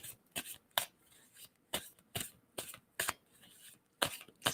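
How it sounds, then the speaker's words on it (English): Close, crisp shuffling of a tarot deck in separate quick bursts, roughly one every half second to second, with quiet gaps in between. "And tell me when to stop shuffling on that."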